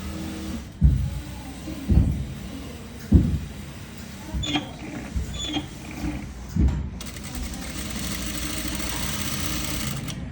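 A sewing machine stitches a pin tuck on a kurti in loud, close bursts, with sharp thumps as it starts and stops several times, then a steadier whirring run toward the end.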